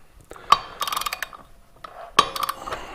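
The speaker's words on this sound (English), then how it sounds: "there's the click, 75 foot-pounds" Torque wrench clicking at 75 foot-pounds while tightening a 19 mm clutch bolt on a Can-Am Outlander XMR 850 primary clutch: sharp metallic clicks and ratcheting close up, in two short bursts with a quiet gap between.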